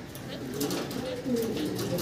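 Pigeons on a farm coo in soft, rolling bursts, close by and steady, mixed with other bird noise.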